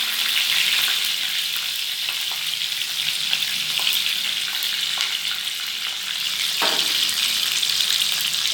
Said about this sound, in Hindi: प्याज को गोल्डन फ्राई करना है कोफ्तों में डालने के लिए